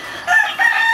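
A Howard Belt Red Claret gamefowl rooster crows close by, a single loud, strained call rising in two surges, with no talk over it.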